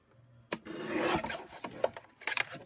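A Tim Holtz paper trimmer blade slices through a sheet of paper in one close, rasping stroke lasting about a second, followed by a few light clicks and rustles as the paper is handled.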